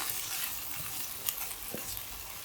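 A hot fried onion tempering poured into a green mango curry gives a soft, steady sizzle and hiss, fairly close, with a couple of small clinks and crackles along the way.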